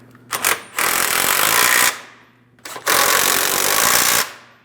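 Starter mounting nuts on a 2005-2010 Chrysler 300 5.7L V8 being snugged with a power tool, two sustained loud whirring bursts of about a second each, preceded by short blips.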